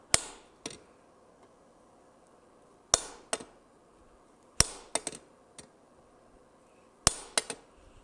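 Hammer blows on metal at an anvil while forging an ornate sign bracket, sparse sharp strikes in small clusters of one to three hits separated by quiet gaps, moderately close.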